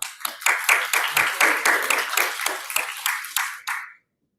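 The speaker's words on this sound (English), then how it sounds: "just want to give another round of applause to our amazing core staff" A closing-ceremony crowd claps in steady, dense applause for about four seconds, then it stops abruptly.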